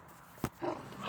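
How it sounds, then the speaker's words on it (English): A dog gives one sharp, close bark, and then a few faint whimpering yips follow against a quiet room. "Sometimes the dog gets a little crazy."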